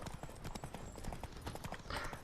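Horse hooves gallop in The Witcher 3 video game, a quick, even clip-clop rhythm that stays faint and steady throughout.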